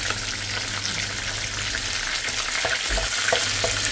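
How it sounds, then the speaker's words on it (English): Salmon crackling away in a deep fryer, a steady close hiss of bubbling oil with a low hum beneath and scattered sharper pops toward the end. "once I put it in the deep fryer, everything fry one go"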